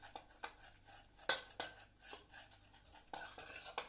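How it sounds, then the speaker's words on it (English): A utensil scrapes and taps rhythmically against a pan while flour paste is mixed with milk, quiet repeated strokes about every half second, close by, with no talking. "You want to keep mixing it so you don't get any lumps in it."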